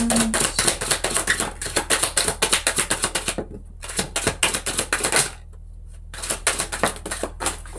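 Tarot cards are shuffled by hand in quick bursts of rapid crisp riffling clicks, close and fairly loud, pausing briefly midway before resuming, with a low background hum and no speech.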